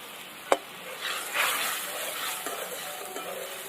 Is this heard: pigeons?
no